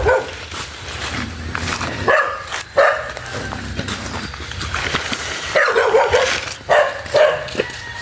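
A dog barks several times in short, uneven bursts at moderate distance, with outdoor background noise between the barks.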